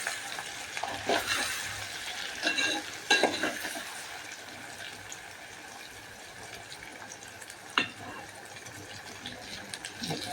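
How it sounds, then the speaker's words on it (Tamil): Eggplant sautéing in oil in a pan for kulambu, a soft continuous sizzle with a few scraping stirs and clinks of a utensil against the pan, fairly quiet throughout. "கத்திரிக்காய் பாருங்க எண்ணெயில் நல்லா வதங்கணும்"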